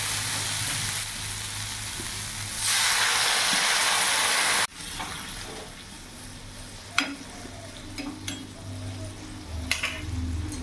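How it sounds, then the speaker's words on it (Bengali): Water poured into a frying papaya and potato curry in a pan, a loud hissing surge of steam and sizzle that cuts off abruptly, then a softer bubbling simmer with a few spoon taps. "এবার আমি জল দিয়ে দেবো।"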